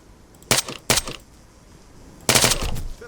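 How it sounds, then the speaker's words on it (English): An MG5 machine gun from a video game mod fires short, sharp three-round bursts, loud and close, with two quick bursts followed by a longer one after a pause. "Another thing that I've added is a 3 burst mode to the weapon."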